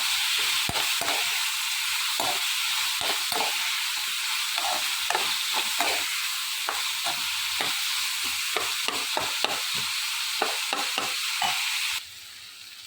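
Cashews and poppy seeds sauté in a pan for an egg masala, giving a steady close sizzle broken by frequent scraping stir strokes, then dropping quieter near the end.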